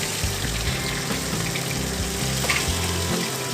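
Cumin, bay leaf, chilli and whole garam masala spices sizzle steadily in hot oil, a dense continuous crackle with stirring, close and fairly loud, with no voices, while preparing a Bengali arr fish curry.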